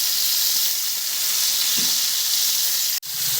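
Lobster frying in hot oil gives a steady, bright sizzle throughout, with a faint pop of splattering oil and a sharp crack near the end.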